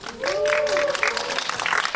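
An audience cheering and applauding at a film stage greeting for a Korean movie, a dense wash of clapping with a raised voice or whistle-like cheer riding over it, loud and continuous throughout.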